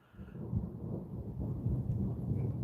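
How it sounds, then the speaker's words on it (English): Thunder rumbling during a storm over the Lickey Hills in North Worcestershire, a low rolling roar that swells and keeps growling for a couple of seconds, fairly loud and without talk. "You'll be getting some of this thunder reaction over your way very soon"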